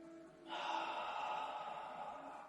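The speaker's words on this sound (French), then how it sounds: "J'inspire par le nez, je souffle de l'air chaud par la bouche." Part of a Pilates breathing exercise: after a faint intake of breath through the nose, a long, steady, breathy exhale through the mouth follows close to the microphone and fades slowly.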